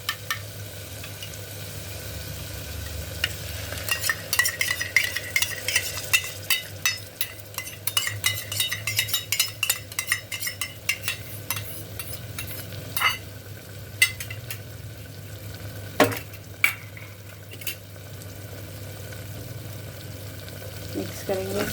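Masala of onion, ginger, garlic and green chilli sizzling in oil as whisked yogurt is stirred in for a jackfruit curry, with a spoon scraping and clinking against the pan in bursts over steady frying.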